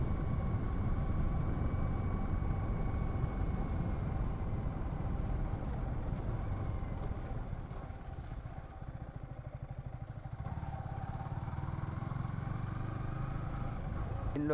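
Yamaha R15 V3 motorcycle engine echoing on narrow roads, a steady low rumble that stays fairly faint and continuous, dipping briefly before picking back up.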